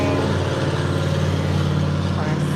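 Loud trucks pass by outside, producing a continuous heavy engine drone and road rumble that fills the whole stretch.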